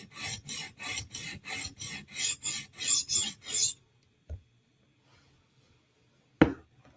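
A Protech Mordax knife blade is stroked across the stone of a TSProf Kadet guided sharpener in about a dozen steady, rasping passes. Each pass is close and crisp, and the sound stops abruptly, leaving near silence with two faint knocks.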